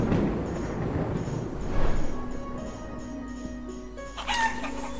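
Chickens clucking in the Life is Feudal: Forest Village game, with a fox attacking them, scattered clucks over a steady game ambience, moderately loud with a brief sharper squawk near the end.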